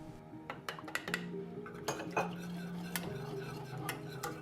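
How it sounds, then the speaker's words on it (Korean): A utensil stirs cream sauce in a pot on the stove. Soft, repeated scraping and clinking of metal against the pot play quietly over a low background hum, with no talk. "잘 저어주세요. 몽울이 지면 안 되거든요."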